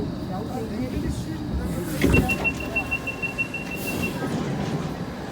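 A Hong Kong Light Rail train pulls out of Tin Shui Wai North stop with a rumbling roll, a clunk, and then a thin, high wheel squeal that holds for about two seconds before fading into the continuing rail noise.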